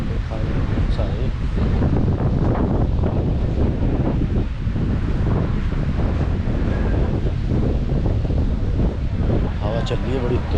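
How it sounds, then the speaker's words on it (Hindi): Strong wind on an island boat tour off Krabi buffets the microphone with a loud, continuous roar, with faint surf and indistinct voices underneath. "हवा चल रही है बड़ी तेज"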